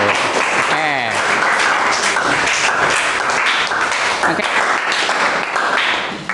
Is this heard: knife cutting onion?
no